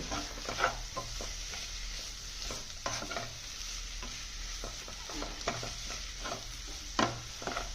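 Mushroom masala stirred in a pan: repeated close scraping strokes over a soft continuous sizzle, with a few louder knocks of the utensil against the pan.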